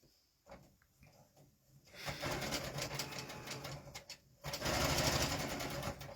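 A sewing machine stitches quilt borders in short bursts, a quiet start, then a steady rapid mechanical run, a brief pause, and a louder faster run to the end.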